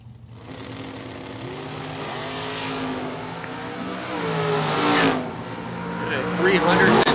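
A big old Pontiac drag car launches and accelerates down the strip at a bracket-racing event, engine roaring loud and building in pitch, with an announcer talking over it throughout.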